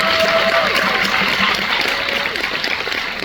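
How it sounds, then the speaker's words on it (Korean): An audience at a film screening Q&A event claps for three guests who brought gifts, a loud, dense wash of applause with faint voices mixed in, holding steady for a few seconds. "선물도 가져오신 이 세 분께도 박수 한번 부탁드릴게요."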